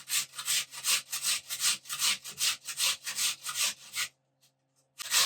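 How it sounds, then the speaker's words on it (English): A potato being grated on a hand grater into a bowl, about a dozen close, even rasping strokes in a steady rhythm, then a short silence before another stroke begins. "I have a grater here and I'm going to grate the potato in this bowl"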